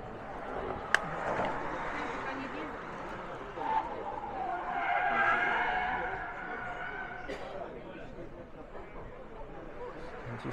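An electric car makes a competition run at an EV club meet, with a whining, skidding tire squeal that rises and falls over steady outdoor crowd noise and talk.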